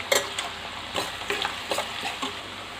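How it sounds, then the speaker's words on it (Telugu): Onion pieces frying in hot oil with a pinch of salt, a continuous sizzle broken by a regular series of stirring scrapes and clinks against the pan, nearby and free of speech. "ఉల్లిపాయలు రెడ్ గోల్డెన్ కలర్ వచ్చేంత వరకు వేయించుకోవాలి."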